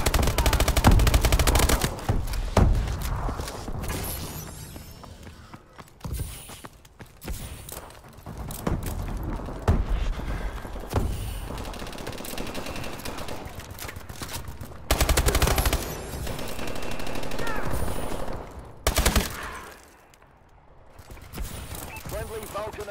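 Rapid bursts of Vulcan cannon fire from an aircraft overhead in a multiplayer shooter video game, loud sustained roaring strafes mixed with other gunfire and battle noise, with radio-style voice callouts over the top.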